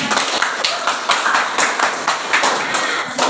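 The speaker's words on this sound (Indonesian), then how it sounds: "Oke, terima kasih. Tepuk tangan." A class of students claps their hands in a quick, regular rhythm of sharp, close bursts, repeated evenly through the moment, with no talk over it.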